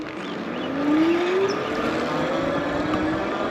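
Kingbull Hunter 2.0 electric bike on throttle only gives a rising motor whine that climbs steadily in pitch as it accelerates, over continuous wind and road rush.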